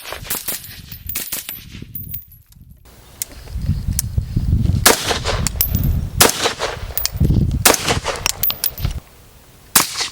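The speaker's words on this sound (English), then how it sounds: "Put a few, like just a couple rounds through that." Suppressed gunshots through a Tion Dragoon Mini QD suppressor, several sharp muffled cracks spread across the clip with rattling and metallic clinks between them at close range.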